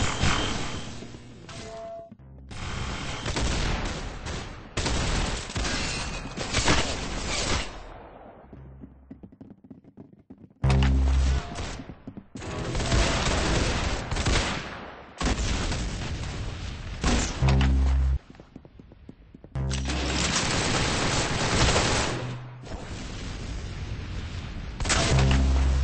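Video game gunfire in dense, loud volleys of rapid shots and booms, arriving in several long bursts separated by short pauses.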